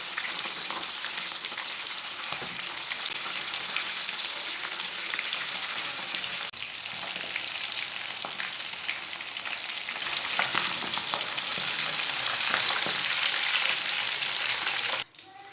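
Fish fillets frying in a pan of hot oil for a Lahori fish fry, a steady close hiss and crackle that swells slightly toward the end before stopping abruptly, with no voices.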